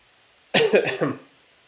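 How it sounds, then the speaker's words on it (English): A single short burst of coughing, two or three quick hacks close to the microphone, then quiet. "I have a little bit of a cough today"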